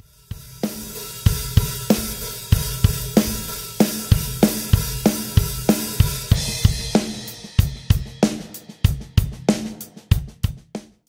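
A drum kit plays the transition of a song into the second verse: steady loud kick and snare hits with bright cymbal wash, shifting near the end into sharper, sparser accented hits, close and alone with no voice.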